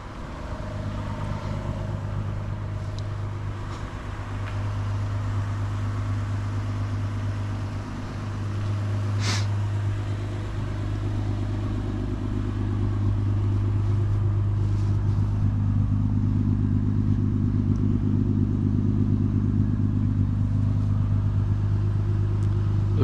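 A 2014 Lexus IS350 F Sport warms up with a steady, low, droning idle heard from close by. The engine note hums on evenly and grows a little fuller toward the end, with no talking.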